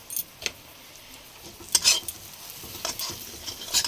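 A spoon stirs chana dal with salt in a pan, giving a few sparse, close scrapes and light metallic clinks against quiet background hiss.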